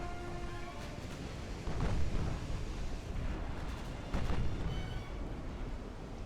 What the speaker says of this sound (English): a nasty ammo explosion